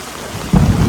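Heavy rain pours down steadily over flooded farm fields, and a deep rumble of thunder rolls in partway through, swelling loud and close over the constant hiss of falling water.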